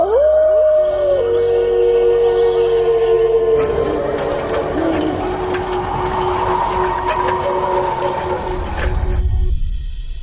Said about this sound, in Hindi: राजा के कमरे की खिड़की के बाहर बहुत सारे कुत्ते आ चुके हैं।